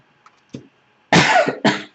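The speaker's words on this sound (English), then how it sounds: "I don't know where that cough came from" A couple of faint throat sounds, then two loud, close coughs in quick succession.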